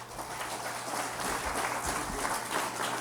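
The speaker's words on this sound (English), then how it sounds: "let's give the panelists here a round of applause" An audience at an agricultural town hall listening session applauds the panelists, a fairly soft, even spread of clapping with a low hum underneath throughout.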